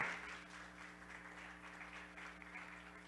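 Faint, distant applause from a church congregation continues steadily over a low electrical hum.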